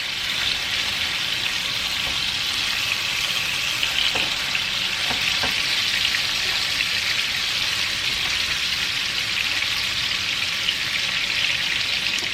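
Pieces of pork stew meat fry in a pan for Mexican-style pork in green sauce, making a steady, rain-like hiss with faint pops that holds at an even loudness throughout.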